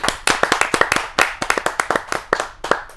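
An audience at a Hindi kavi sammelan poetry gathering claps for a poet being invited up, a close, steady run of sharp handclaps lasting the whole stretch, with no talk over it.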